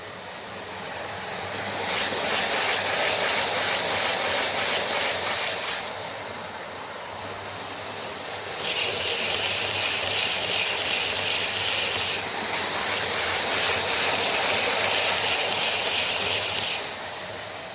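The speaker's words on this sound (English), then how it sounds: "I really love the noise that they make as they cross these points" Loud rumbling passage of a Hornby Pendolino OO gauge model train with rhythmic clattering as it crosses track points, swelling in bursts as carriages pass close by, no voices.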